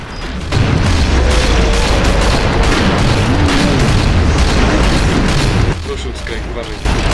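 A loud, sustained booming roar of a bomb explosion in the video game Killing Floor, on the Hospital Horrors map, with rumbling low end, lasting several seconds before cutting off abruptly.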